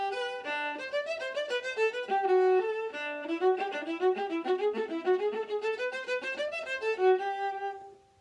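A solo viola plays a light, flowing opening melody from Haydn, notes joined smoothly at a moderate volume, with no talking.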